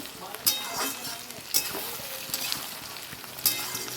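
Onion and tomato fry in a pan with a pinch of salt for homemade chilli paneer. A steady close sizzle runs throughout, with occasional clinks and stirring scrapes.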